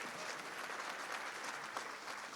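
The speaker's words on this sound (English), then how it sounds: "give yourselves a big hand" An audience at a speech by Mississippi Governor Haley Barbour claps steadily, a dense, even wash of applause filling the room from start to finish without a break.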